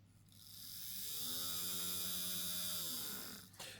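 Motor of a Hornby Class A3 model locomotive whirring with power on but the engine not moving, a rising hum that holds steady for a few seconds, then fades with a small click at the end.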